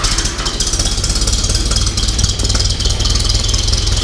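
Allis-Chalmers WD-45 farm tractor with a carburetor, its engine running after sitting about ten days: a loud, close, steady low rumbling chug with an even rhythmic knock, heard alone without talking.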